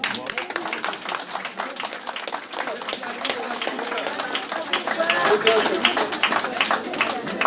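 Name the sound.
applause from hospital workers at a strike gathering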